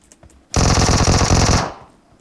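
Automatic gunfire in the mobile shooter game PUBG Mobile, one loud rapid burst of about a second, close and dense, with faint sounds before and a short fade after.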